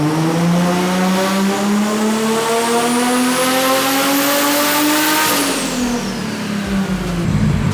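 Nissan R32 GT-R engine at high boost on a dyno, revving in one long continuous climb that peaks and then drops off as the throttle closes, loud and close with a steady high-pitched whine riding on top.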